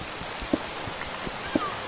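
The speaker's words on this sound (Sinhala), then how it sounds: "මේකේ වැස්සේ සවුන්ඩ් එකත් ෆ්‍රෙන්ඩ්ස් පට්ට ආතල් තියෙනවා" Rain in the game Minecraft falls as a soft, steady patter, joined by a couple of faint, brief clicks, with no one talking.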